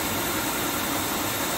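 2HP three-phase motor spinning at about 3000 RPM on generator power, a brief loud steady hum with a broad airy noise and no pauses.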